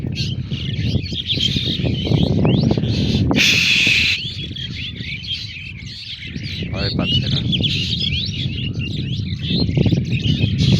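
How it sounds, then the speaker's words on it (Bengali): Many birds chirp and twitter continuously in village trees, a dense, loud chorus of overlapping calls above a steady low background rumble, with a brief sharper burst near the middle. "পাখির কিচিরমিচির ডাক শুনতে পাচ্ছেন"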